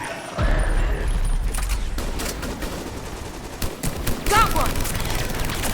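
Sustained rapid gunfire from the video game Mass Effect 3 on Thessia, bursts of shots rattling almost continuously across the whole stretch, with people talking over it.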